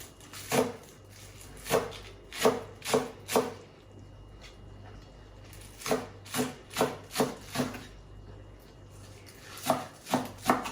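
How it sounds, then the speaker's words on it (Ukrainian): Green onion chopped with a knife on a board, bursts of crisp, evenly spaced thuds in quick runs of several strokes, separated by short pauses, close and clear with nothing else over it. "Тепер нарізаємо цибульку."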